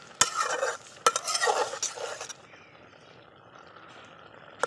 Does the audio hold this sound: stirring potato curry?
yes